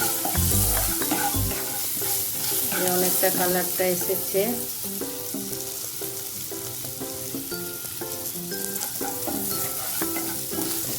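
Food sizzles and is stirred in a hot pan while dahi katla is cooked, with steady frying crackle and repeated scraping stirs throughout, and a voice speaks briefly.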